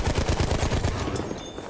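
Gunfire in a war video game, a quick series of rhythmic shots at moderate loudness that fades out toward the end, with no talk.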